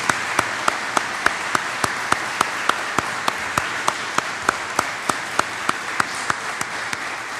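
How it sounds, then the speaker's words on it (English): Graduation ceremony audience for MCPD Session 72 applauding, with a steady wash of many hands clapping at moderate distance and sharp, evenly spaced louder claps from one person close by, continuing alone without talk. "Let's give one big round of applause"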